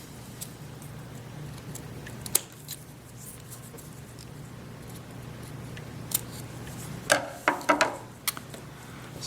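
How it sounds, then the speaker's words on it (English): Scissors snipping excess edging off a handmade craft portcullis for D&D game tiles, a few sparse sharp clips early on, then a quick cluster of snips near the end over a quiet room. "I'll just snip this extra stuff off here"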